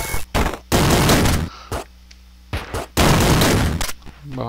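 Rapid bursts of gunfire from shooting downward in the video game Downwell, loud clustered volleys separated by short pauses, with no talking.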